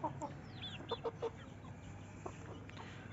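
All-black Aseel chickens, a breeding pair with hens, give soft scattered clucks and brief calls, faint and somewhat distant over a low background hum.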